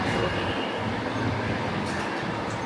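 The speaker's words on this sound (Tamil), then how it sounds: "ஆனால் ட்ரெயின் செம்ம ஸ்பீடாக போகுது, சடாபடான்னு" A New York subway train running fast, a loud steady roar of wheels and rattling carriages with faint squeals, close and continuous throughout.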